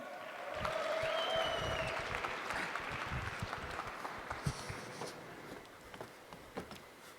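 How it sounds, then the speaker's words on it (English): An audience at a Near Day conference applauds and cheers as speakers come onto the stage, a full burst of clapping that swells, then thins into scattered claps toward the end. "So if you could put your hands together and give a big cheer"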